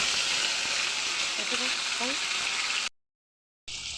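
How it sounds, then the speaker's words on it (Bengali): Lote fish (Bombay duck) coated with oil and spices frying in a kadai, a loud continuous hiss and sizzle with brief faint voice traces, cutting out near the end before resuming briefly. "এ দেখো লোটে মাছটাকে বসিয়ে দিয়েছি। এ পিঠটা ভাজা হবে"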